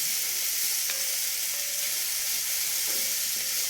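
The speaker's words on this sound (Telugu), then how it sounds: "ఇది క్యారెట్ వేగుతాను." Carrot frying in a pan, a close, steady sizzle and hiss with faint stirring clicks, no talking.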